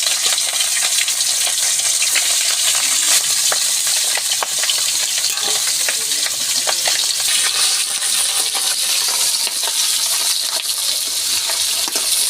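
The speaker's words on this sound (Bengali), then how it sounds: "তেলটা আমার গরম হয়ে গেছে মাথাটা আমি দিয়ে দিলাম" A fish head fries in hot oil for a cabbage dish, loud continuous sizzling and crackling with scattered sharp pops, close and steady throughout.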